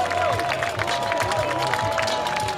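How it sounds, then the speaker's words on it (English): A baseball crowd roars and cheers as a hitter comes to the plate in the seventh inning, a dense, continuous wash of voices with scattered clapping that stays loud and steady throughout. "You hear the roar of the crowd for the 2025 baller, just reacquired today."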